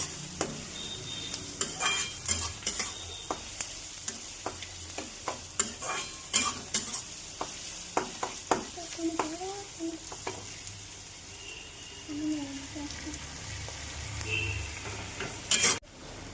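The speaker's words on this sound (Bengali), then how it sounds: "মশলাটা ভাজা গেছে বন্ধুরা" Spices and browned onions fry in a pan under a steady hiss, with a utensil scraping and tapping in irregular strokes that thin out partway through, then a sharp clatter near the end; no talking.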